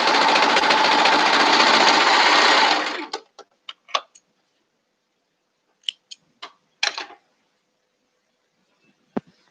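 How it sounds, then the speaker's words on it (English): A serger runs steadily for about three seconds sewing raw fabric edges, a loud close whirring, then stops and leaves scattered light clicks and handling taps. "Put it straight on your serger and sew the raw edges right here."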